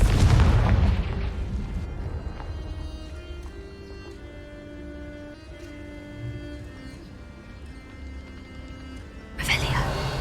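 A Confringo blasting spell from Hogwarts Legacy explodes as a loud booming burst at the start, and a second blast erupts near the end, with steady game music playing in between.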